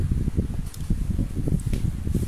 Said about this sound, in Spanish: creo que el sonido del ventilador molesta, lo voy a apagar